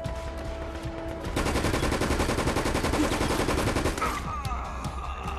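Sustained rapid automatic gunfire rattles loud and close for about three seconds in Resident Evil Operation Raccoon City, then cuts off into quieter shuffling and a short electronic tone.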